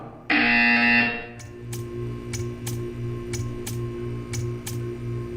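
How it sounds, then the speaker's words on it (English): A loud electronic buzzer from the video game Portal 2 sounds for about a second, followed by a steady hum and regular ticking clicks. "You will hear a buzzer."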